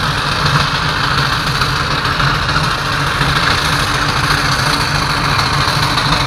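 Heavy engine of a small machine straining to pull a weight box of 45 to 50 tons, a loud, steady low drone with vibration that barely changes and has no voices over it.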